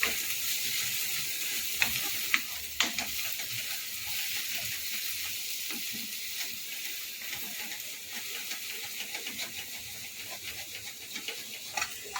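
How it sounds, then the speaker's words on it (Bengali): Spices frying and being stirred in a pan for dhaba-style egg tadka, a steady close sizzle with scraping spatula strokes and occasional clicks against the metal, no voices. "মশলা দেওয়া তো ওই জন্য অনবরত নাড়ছি যাতে আটকে না যায়"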